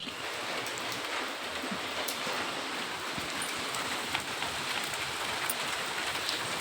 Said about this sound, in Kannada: ಬ್ಯಾಕ್ ಕ್ಯಾಮ್ರಾ ಹಾಕಿ ತೋರಿಸ್ತೀನಿ ನೋಡಿ ಮಳೆ ಹೇಗೆ ಬರ್ತಿದೆ ಅಂತ